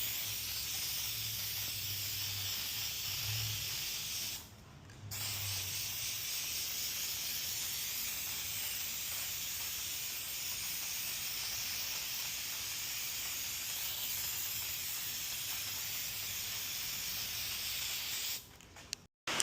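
Plasti Dip spray coating hisses steadily onto a TPU 3D print, a broad continuous aerosol rush held nearly the whole time with one brief pause partway through and a cutoff at the end.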